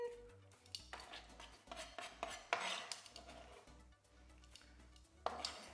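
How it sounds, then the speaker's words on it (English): A knife chops through an omelette on a cutting board for a Korean BBQ pork rice salad, giving a series of close, irregular thuds with short pauses between strokes and no talking. "I'm just chopping up the omelette to go in."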